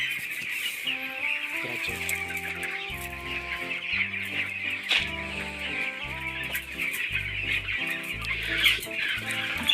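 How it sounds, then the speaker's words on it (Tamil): Broiler chickens in a farm shed cluck steadily and close by, a dense overlapping chorus of short calls that continues throughout with no one talking. "கோழிகளெல்லாம் நல்லா அழகாக படுத்துட்டு இருக்குதுங்க ஃப்ரெண்ட்ஸ் வெயிலுக்கு"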